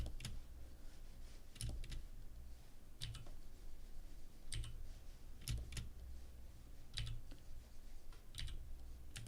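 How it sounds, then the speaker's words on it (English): Keys on a mechanical keyboard clack in small clustered bursts spaced about a second and a half apart. The typing is faint and close over a steady low background hum. "like the sound the keyboard makes when I type"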